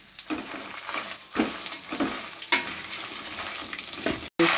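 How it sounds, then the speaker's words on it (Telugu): Dried red chillies, garlic and coriander seeds frying in hot oil for a curry leaf powder, a continuous close sizzle broken by periodic scraping stirs, alone with no talk. "ఆయిల్లో ఎండుమిర్చి వేపుకోవాలి, వెల్లుల్లి వేసుకోవాలి, ధనియాలు కూడా వేసుకొని వేయించుకోవాలి."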